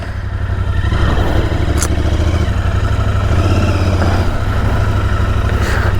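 A Royal Enfield Interceptor 650 motorcycle pulls away, its twin-cylinder engine thumping loud and close with steady revs rising through gear changes, wind noise mixed in.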